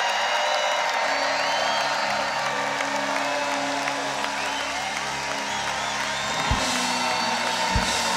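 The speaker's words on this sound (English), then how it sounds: "clap one more time for the bishop" An audience at a church convention session claps and cheers for a bishop, a dense, steady wash of applause lasting throughout with low sustained tones underneath.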